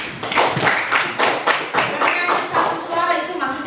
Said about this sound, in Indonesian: Tepuk tangan untuk pertanyaan dari teman.